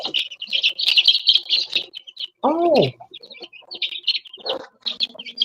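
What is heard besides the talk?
birds chirping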